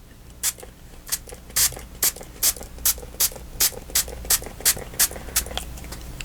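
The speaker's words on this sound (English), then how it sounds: "I'm spraying the whole card" A spray bottle misting ink across a card, heard as a fast series of short, crisp hissing bursts in an uneven rhythm, close and fairly loud, with nobody speaking.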